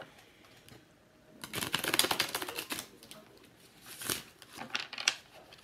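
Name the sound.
shuffling a Rider Waite tarot card deck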